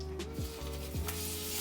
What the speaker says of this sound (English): You can hear it sizzle, so another sign that it was ready.